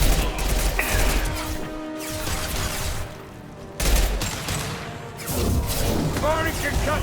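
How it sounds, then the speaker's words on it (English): Explosive bursts and crashes from the concussive shot ability in Mass Effect 2 come in several heavy blasts amid dense game combat noise, with voices speaking over the action. "Firing concussive shot."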